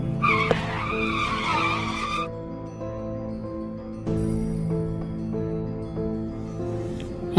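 A car in a Gulli Bulli zombie-town cartoon pulls over to the roadside: a sharp tire skid up front, then a sustained droning hum with occasional thumps.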